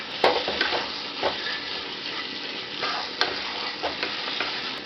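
Stirring Kerala chicken roast in a pan after adding pepper and coriander leaves, with a steady low sizzle and a few soft scraping strokes of a utensil against the pan.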